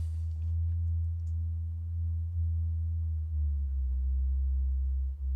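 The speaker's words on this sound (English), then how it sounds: "Since it's like basically a sine wave and it's so low" A low synthesized sine-wave note from a music production session hums steadily and fairly quietly, its pitch drifting slightly downward near the end, with no one speaking.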